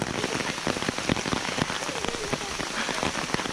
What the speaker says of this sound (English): Just to give you an idea of how much it's pouring rain right now.